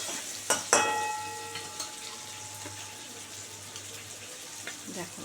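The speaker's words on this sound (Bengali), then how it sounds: "কাঁকরোলটা ভালো মোটামুটি ভাজা হয়ে গেছে" Teasel gourd fries in a pan with a soft, faint sizzle, broken by a few sharp clinks and scraping stir sounds near the start and later, while a low hum runs underneath.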